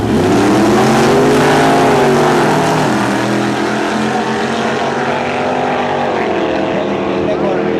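A Chevrolet Chevy II races at the 2010 Vaasa street race, its engine a loud, sustained roar that wavers slightly in pitch throughout with no break.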